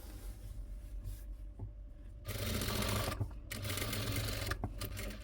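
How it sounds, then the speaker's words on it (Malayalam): A sewing machine stitching a ready-made neck patch onto a garment, running with a steady close mechanical whir that swells louder midway through and pauses briefly between runs. "നെക്ക് തയ്ക്കുമ്പോൾ എപ്പോഴും ശ്രദ്ധിച്ച് ആയത്തിൽ തയ്ച്ചു കൊടുക്കണം"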